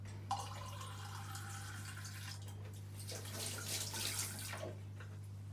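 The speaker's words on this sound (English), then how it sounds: "And a third way with water, cold water." Cold water pours into a mug in a steady stream for a couple of seconds, then splashes and trickles more unevenly, close by over a constant low hum.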